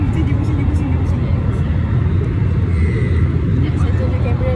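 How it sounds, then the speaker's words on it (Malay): Inside an airplane cabin, a constant low engine rumble and airflow hum drones at close range while indistinct voices murmur over it. "Saya bawa anda semua naik kapal terbang bersama saya."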